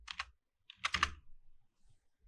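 Code is typed on a computer keyboard in two short bursts of quick, close key clicks separated by a brief pause, with faint taps trailing off at the end.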